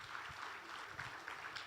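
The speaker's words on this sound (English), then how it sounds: "Can we give the mayor a round of applause?" Quiet clapping from a group at an economic development and investment summit, a soft patter of hands with a few louder claps poking through, heard at a distance.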